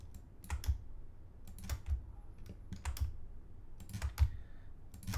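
Computer keyboard keys are pressed while modeling a racing tire in Cinema 4D, crisp close clicks arriving in small irregular bursts with pauses between, alone without talk.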